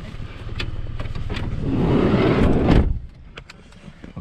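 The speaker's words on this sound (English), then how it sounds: "Okay, we're in the car." Car engine running steadily from inside the cabin while riding in Mongolia, a low rumble that swells louder midway and then drops back to a quieter idle, with small clicks and knocks throughout.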